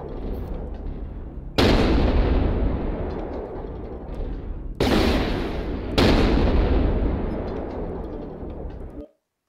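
Marauder II mech firing an AC20 autocannon in MechWarrior Online: three heavy, booming shots at uneven intervals, each a loud blast with a long rumbling decay, with no one talking.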